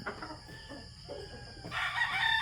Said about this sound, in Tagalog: yung kay Kenneth, ay yung Boston Black, Broodstag yan